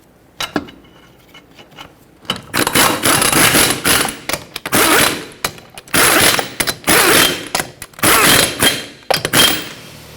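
Lug nuts on the rear wheel of a 2006-2010 Hyundai Sonata are torqued in a cross pattern, giving a run of metallic clicks and ratcheting bursts in close, loud clusters separated by short pauses.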